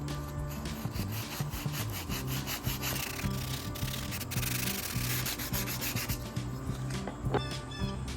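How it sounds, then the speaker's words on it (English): Hand sanding of a wooden Bowie knife with 150 and 220 grit paper, a steady loud rasping rub in quick back-and-forth strokes that never stops. "Ready to sand some more?"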